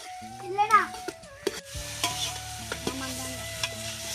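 Onions fry in a pot for a village-style biryani cooked outdoors, with a soft sizzle and a few sharp scrapes and knocks of a stirring ladle, while children's voices chatter briefly in the background.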